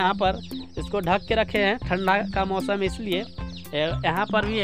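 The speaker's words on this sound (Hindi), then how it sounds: "आप लोग देख सकते हैं यहाँ पे आवाज़ सुन सकते हैं" Chickens and chicks cluck and peep nearby in a rural Indian home during cold weather, with someone talking continuously over the bird sounds.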